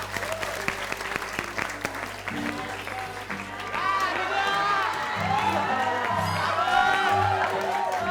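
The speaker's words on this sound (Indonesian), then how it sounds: "sekarang kita berikan tepuk tangan untuk Miss Hula Hula." Enthusiastic applause from a crowd, with scattered cheers and whoops over steady background music, growing a little louder midway.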